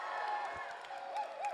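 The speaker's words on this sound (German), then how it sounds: "Und zum Abschied können wir eigentlich nochmal alle jubeln, oder?" Concert crowd at an anime concert cheering goodbye, a faint, short burst of distant cheering and whoops.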